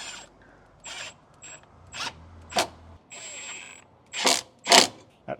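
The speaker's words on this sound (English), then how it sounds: "Make sure this is centered perfect and tighten down this clamp." A hose clamp on a Saab 9-3 exhaust is tightened close up, with a series of short metallic ratcheting clicks in uneven bursts and brief pauses between turns.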